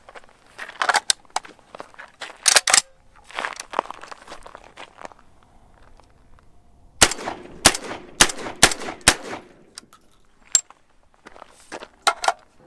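A Typhoon Defense F12, a magazine-fed 12 gauge AR-style shotgun, fires five rounds of double-aught buckshot in loud, sharp blasts with uneven gaps between them, mixed with the clatter and scuffing of handling.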